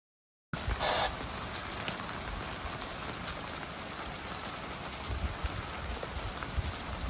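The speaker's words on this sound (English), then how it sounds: "A little rainy." Steady rain pours down on surfaces outdoors at a large lock, a dense continuous hiss that starts abruptly after a brief silence and holds even and loud throughout.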